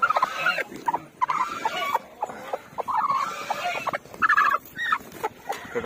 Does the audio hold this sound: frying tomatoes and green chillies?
no